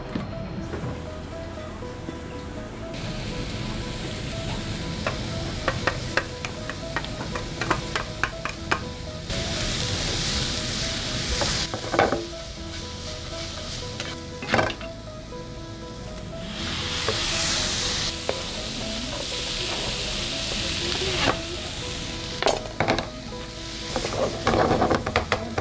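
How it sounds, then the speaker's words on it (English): Tomato sauce frying in a little oil during a low-salt cooking class, a continuous loud sizzle with occasional stirring clatter and utensil knocks, no talking over it. "我哋先製咗個番茄汁先，少少油"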